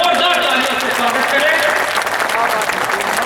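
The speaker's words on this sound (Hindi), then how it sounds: "मैं चाहता हूं कि आप सब एक बार जोरदार तालियों से अपने श्रद्धेय विधानसभा अध्यक्ष जी का स्वागत करें।" Loud audience applause at a public event welcoming the Madhya Pradesh assembly speaker at Mahavir temple in Belhui, sustained steady clapping throughout with a voice speaking over it.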